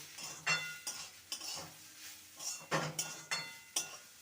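A utensil stirs fried radish greens with matar dal in a pan under a drizzle of raw mustard oil, making a rhythmic series of close scraping clinks and metallic taps over a faint sizzle, with no talk.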